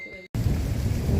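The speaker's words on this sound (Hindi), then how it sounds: "तेज़ बारिश, और बारिश ऊपर ही पड़ रही है।" Heavy rain pours down in a sudden storm, a dense, loud roar of drops and rumbling thunder that kicks in abruptly after a brief cut and keeps going strongly.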